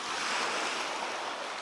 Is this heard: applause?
no